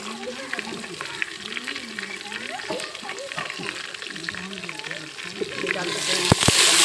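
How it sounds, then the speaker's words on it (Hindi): Tomatoes and garlic masala frying in a pan, a continuous sizzle with stirring scrapes and a watery hiss, brief knocks near the end, heard under someone talking. "हमारा मसाला जो है आहिस्ता से भूनना शुरू हो"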